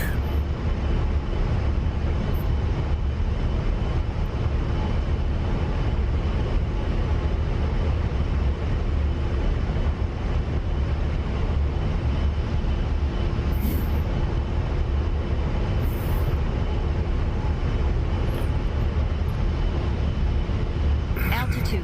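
Damaged A-10 jet engine windmilling after being shut down in DCS, a steady low rumbling roar that runs unbroken throughout, with speech over it.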